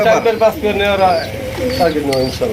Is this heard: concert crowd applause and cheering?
no